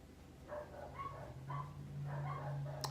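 Several dogs bark in short bursts from somewhere outdoors at moderate distance, apparently set off by a mail or delivery truck, over a steady low indoor hum.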